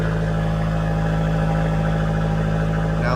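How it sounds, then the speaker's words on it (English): A 2013 Fiat 500 engine cold-starts and runs at a steady idle with a constant hum and low drone, close by, with no talk. "So now let's push the clutch in and see if we can get her to fire up."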